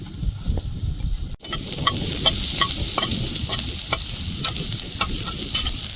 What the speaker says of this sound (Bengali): কড়াইতে তেল দিয়ে দেবো। শাক ভাজাটা বসিয়ে দেবো।